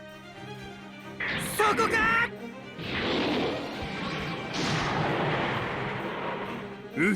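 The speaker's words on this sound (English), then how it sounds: "Grenade launcher." A grenade launcher fires in the mecha strategy game Super Robot Wars V: sharp launch blasts followed by rumbling impact explosions that swell and fade, mixed with a character voice.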